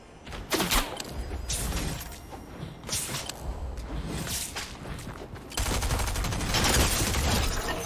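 Sniper gunfire in a video game: sharp shots crack from several directions, with mechanical clicks and a louder sustained burst toward the end.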